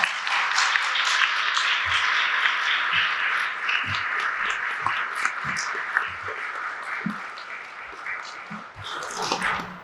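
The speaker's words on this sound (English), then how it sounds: "Please, let's give all of our candidates a round of applause." Audience applause for city council candidates at a Salem election forum, a steady patter of many hands clapping throughout, with a few low knocks and a brief swell near the end.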